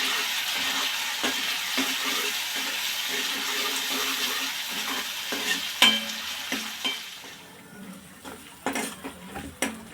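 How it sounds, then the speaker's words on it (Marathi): Tomato and a tempering of spices sizzle in hot oil as a spoon stirs and scrapes the pan, a steady close frying hiss broken by clinks and scrapes that grow sparser toward the end. "हे व्यवस्थित परतून घ्यायचं आहे तेलामध्ये आता ह्यातच आपण हा टोमॅटोसुद्धा टाकून घेऊ"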